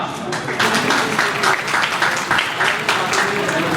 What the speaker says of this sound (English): A big round of applause for Manju Kumar.